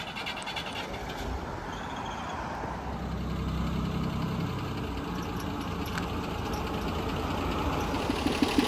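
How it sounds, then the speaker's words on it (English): Steady drone of a car engine during a short back-and-forth drive in a parking lot, moderately loud and continuous, with a brief low surge partway through and no talking. "Martha's just gonna go for a little back and forth drive in the parking lot"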